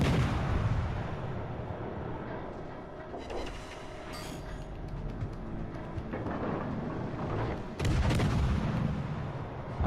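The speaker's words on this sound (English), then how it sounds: "You gotta adjust when aiming with the cannons." Ship cannons firing in the World of Warships: Legends video game, heard as heavy booming rumbles and blasts that roll on continuously, with stronger bursts near the start and near the end.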